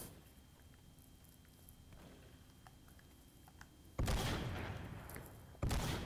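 AA-12 automatic shotgun fire in the Roblox game DayZ: faint scattered clicks and pops, then two loud, dense bursts of rapid shots close by, the second shorter than the first.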